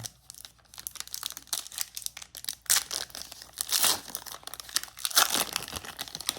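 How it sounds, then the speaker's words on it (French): Foil trading card booster packs being torn open for a Sorcery beta booster box, with close, uneven crinkling and rustling broken by several sharp tearing bursts, alone without talk. "C'était déjà assez long à ouvrir. Je pensais que ce serait plus rapide. Mais c'est vraiment un combat, ces boosters-là à ouvrir."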